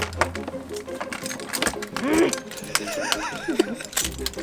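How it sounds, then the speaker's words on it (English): A ring loaded with many keys jingles and clinks in short bursts while people talk close by inside a camper van in New Zealand. "There's so many keys on that key ring."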